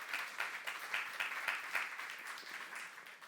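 A church youth congregation claps together in rhythmic applause during a Korean sermon, fairly quiet and somewhat distant, with pulsing bursts of hand claps repeating over several seconds and no talking.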